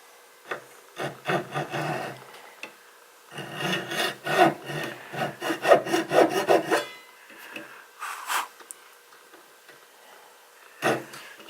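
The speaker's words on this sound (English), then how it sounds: "this little saw that you were using to cut the nut off with before, it's pretty nice" A small fine-toothed saw cuts string slots into a bone guitar nut, giving bursts of close, rhythmic rasping strokes separated by short pauses, with a final brief stroke near the end.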